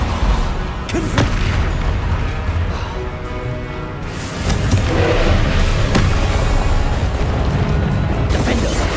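A Confringo fire-blast spell in the Hogwarts Legacy video game erupts with a deep booming burst over a dense, loud wash of continuous game combat sound.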